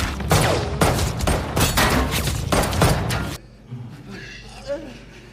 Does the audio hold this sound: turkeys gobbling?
no